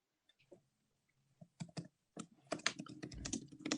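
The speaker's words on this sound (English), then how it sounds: "It's Damien typing, by the way." Typing on a computer keyboard during a live-streamed meeting, with sparse clicks at first building into a quicker burst of keystrokes, faint and close.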